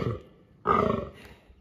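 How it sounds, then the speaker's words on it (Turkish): A deer in a family group at a mountain plateau campsite gives a single deep, rough bellowing roar, loud and close, after a quieter low rumbling start, with no talk over it. "İlk defa geyik sesi duyuyorum gerçekten."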